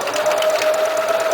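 A Kenmore 385-16220 sewing machine stitching an automatic buttonhole, running at a steady, continuous mechanical whir with a constant motor tone and a fast, even rhythm of stitching, close and fairly loud.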